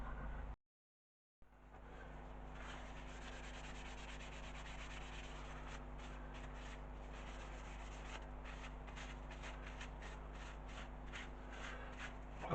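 Cloth wiping Howard's feeding wax onto a turned yew bowl, a soft, steady rubbing that continues evenly after a brief silent gap, faint and close, with a low background hum.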